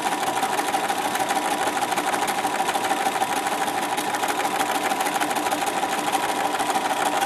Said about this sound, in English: So same thing, forward, backwards, sew all the way down to the bottom.